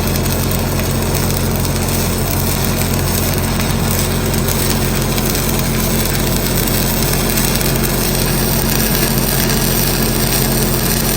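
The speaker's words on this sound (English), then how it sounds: "Let's weld something." Steady arc welding crackle during a hands-on one-on-one training session, a dense continuous sizzle and hum running loud and unbroken throughout with no talking.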